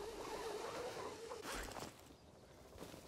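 A zip line ride in Dying Light 2 gives a quiet whirring, zipping slide with a brief rushing swell midway, faint and continuous for a few seconds.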